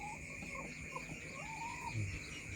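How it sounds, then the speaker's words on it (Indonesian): Laying hens cluck softly in a semi-intensive coop at night, brief low calls rising over a steady background hum of insects, with one slightly louder cluck near the end. "ayam petelur yang sudah memang bertelur"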